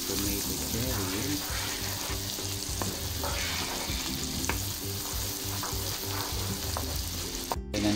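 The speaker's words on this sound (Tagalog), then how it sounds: "Lutuin lang po natin ng bahagya ang ating tomato cherry." Cherry tomatoes sizzle and spit in garlic butter in a hot pan, a steady close crackle with occasional stirring scrapes throughout.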